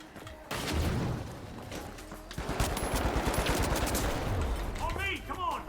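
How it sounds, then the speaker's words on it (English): Gunfire and a frag grenade blast in the video games R6 and The Finals: a heavy boom followed by sustained rattling bursts of shots, loud and close, with scattered game sounds and a voice near the end. "Frag grenade out."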